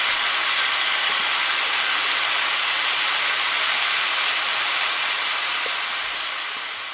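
Chicken searing on a griddle pan before going into the oven, a steady, loud broadband sizzle that hisses continuously and evenly throughout, with no voices.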